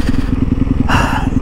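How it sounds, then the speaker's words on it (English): Supermoto motorcycle engine running close by while riding, a steady pulsing thump with a rise in rough mid-range noise near the end. "Having a good old time out here on my Supermoto, baby."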